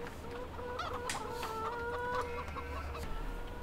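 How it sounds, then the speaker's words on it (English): Chickens in Farming Simulator 2015 cluck and chatter repeatedly at moderate distance over a low ambient farm hum, with no talking. "So these chickens really don't eat or drink much."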